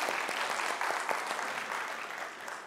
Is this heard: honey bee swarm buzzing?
no